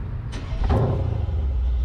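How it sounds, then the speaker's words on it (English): A Mercedes-Benz CL63 AMG V8 engine fires up into a deep, throaty rumble, the low growl holding steady for a brief moment. "V8 sounds good as always in these AMG cars."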